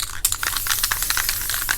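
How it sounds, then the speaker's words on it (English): A can of flat black spray paint lightly mists a guide coat onto primer on a 1987 Chevy Caprice, giving a close, breathy hiss in short uneven bursts with faint clicks from the nozzle. "Flat black spray paint."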